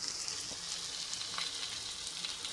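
Brinjal pieces frying in oil in a pan, Virudhunagar-style ennai kathirikaai with shallots and cumin: a steady, close crackling sizzle with fine popping throughout, no voices.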